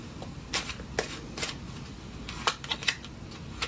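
Tarot cards being shuffled close by, several quick riffling bursts separated by short pauses, fairly quiet with no talking.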